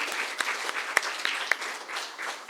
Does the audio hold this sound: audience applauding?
yes